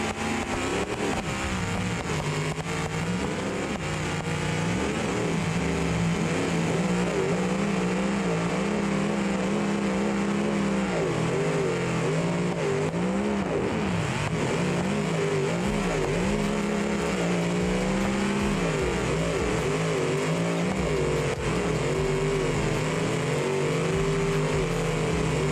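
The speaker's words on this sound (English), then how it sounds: "That engine just screams." Race car engines in BeamNG multiplayer scream continuously, a dense loud whine shifting up and down through gears as several cars run close together, with no speech over it.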